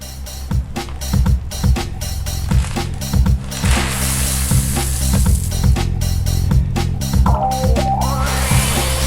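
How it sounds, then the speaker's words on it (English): Gravel shovelled into a dug-out, sloped patio base for a flagstone patio: repeated scraping shovel strikes and gritty pours of stone in an irregular working rhythm, close and fairly loud, with a longer rushing pour midway. "we're putting our gravel in"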